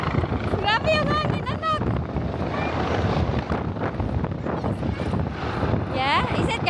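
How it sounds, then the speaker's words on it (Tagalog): Close helicopter rotor wash roars with buffeting wind against the microphone, a dense, continuous rush, while excited voices talk over it. "grabe yung hangin sa helicopter"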